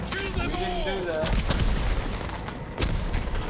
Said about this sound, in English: We got the fireworks.